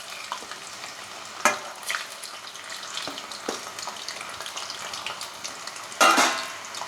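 Potato french fries frying in hot oil, a steady low sizzle with occasional clinks of a utensil against the pan and a louder burst of crackling near the end, no voices.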